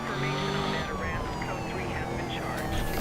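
Wailing police sirens in the video game Need for Speed Rivals sweep up and down over a dense background of engine and traffic noise, fairly loud and continuous.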